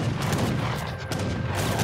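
Musket gunfire in the video game Age of Empires III, a dense ragged volley of rapid overlapping shots crackling continuously and loudly for a couple of seconds.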